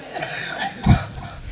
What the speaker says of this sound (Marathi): खोकली चालू झालेली